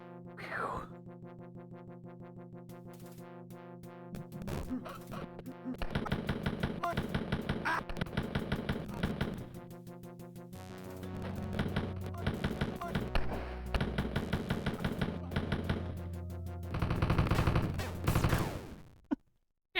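Dual pistols firing in Wolfenstein 3D, fast repeated retro gunshots in long rattling bursts over looping game music, fairly loud and close.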